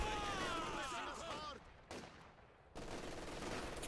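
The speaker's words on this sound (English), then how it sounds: "And those MG42s" MG42 machine guns rattle in sustained bursts on a Company of Heroes 2 battlefield, steady dense fire with brief gaps, heard at a moderate distance among other combat noise while a commentator talks over it.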